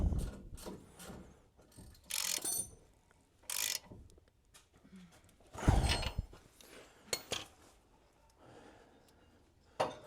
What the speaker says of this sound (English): And now I'm tightening back up the upper control arm bolt.